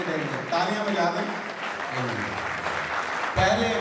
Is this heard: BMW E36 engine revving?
no